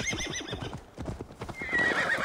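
A horse in the video game Assassin's Creed Valhalla trots with steady rhythmic hoof clops, close and clear, then lets out a loud whinnying neigh near the end.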